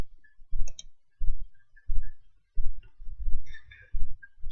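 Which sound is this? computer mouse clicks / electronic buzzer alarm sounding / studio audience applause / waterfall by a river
computer mouse clicks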